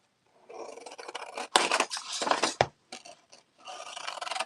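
Scissors snip through craft material close by in several short, irregular bursts of crisp cutting and rasping, separated by brief pauses.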